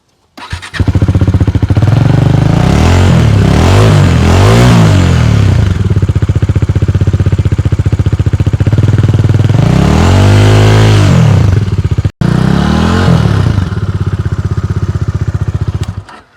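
A Bajaj Dominar 400 motorcycle with a double-barrel exhaust starts and revs loudly up close, with repeated throttle blips rising and falling over a steady idle, a brief cut partway through.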